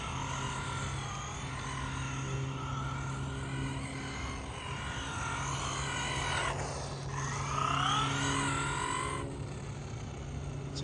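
A Losi 22S sprint car RC car drives with a steady, buzzing electric motor whine that rises and falls in pitch with throttle changes, loud and close throughout, with possible gear mesh or transmission noise.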